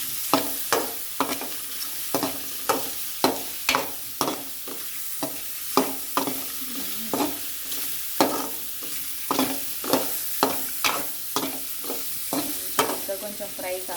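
Mushrooms fry in ghee and turmeric in a pan, a soft steady sizzle broken by repeated rhythmic scrapes of a spoon stirring, close and alone with no talk.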